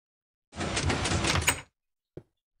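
Minecraft door driven by a T flip-flop redstone circuit swings open in a single short block-game sound, followed a moment later by a faint brief click.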